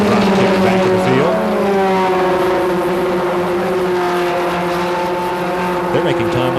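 Race cars battling for second place in a 1980 national championship auto race, loud sustained engine howls with shifting pitch as cars pass near, continuous over the full stretch.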